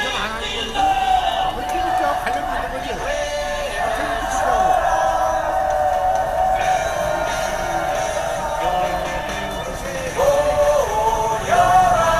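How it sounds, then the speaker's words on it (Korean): A crowd raises a sustained, moderately loud roar of victory shouts under a held vocal tone, swelling again near the end with a fresh burst of cheering. "승리의 함성을 함께"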